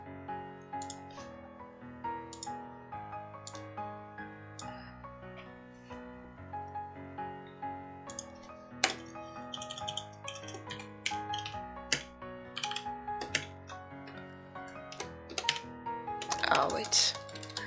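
Rapid typing on a computer keyboard, close and crisp, with bursts of key clicks and pauses alongside a faint game soundtrack.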